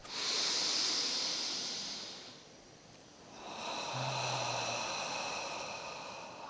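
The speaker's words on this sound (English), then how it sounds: "Take another breath." A slow, deep breath drawn in through the nose then released as a long airy exhale, close and breathy, with a brief pause between the two, no speech.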